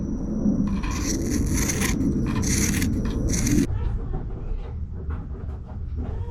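Scissors trimming fiberglass cloth for a paddleboard repair, a few rapid crisp snipping and rasping cuts close by over a low background rumble, then quieter handling of the cloth.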